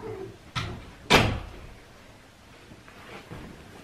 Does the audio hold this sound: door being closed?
yes